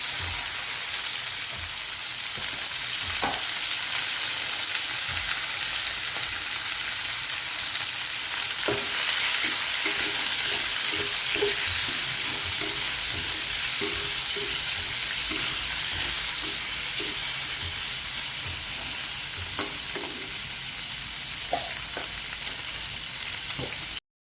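Tomato and chana dal fry in hot oil in a pan, giving a loud, continuous close sizzle, with occasional scraping and clinks as the mixture is stirred throughout.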